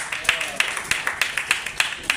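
Audience applause at a formal ceremony, heard as a steady string of crisp, evenly spaced claps at moderate distance, fairly faint and with no talking.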